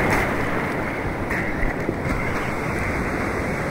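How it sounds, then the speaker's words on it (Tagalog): Powerful waves crash and churn continuously, a dense roaring wash of surf heard up close with wind noise and no talking. "Lakas ng alon."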